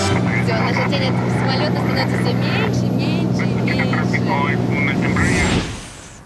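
A steady, loud engine drone from inside a small private airplane flying over Copper Canyon in Chihuahua, Mexico, continuous with some rattling, then dropping away sharply near the end.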